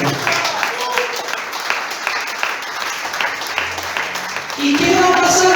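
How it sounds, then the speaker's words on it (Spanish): A church congregation applauds during a Spanish-language sermon, a steady wash of clapping under a preacher's voice that swells louder near the end. "Aplaudan."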